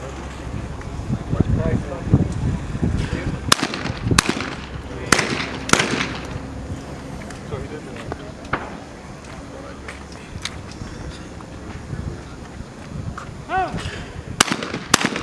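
Sharp 28 gauge shotgun shots ring out at a world skeet championship, about a dozen loud cracks in irregular pairs and singles over crowd murmur and an announcer's commentary.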